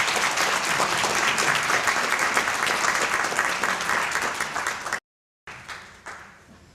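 An awards-event audience applauds in a dense, sustained wave of clapping that fades, cuts out briefly, then resumes more thinly before dying away.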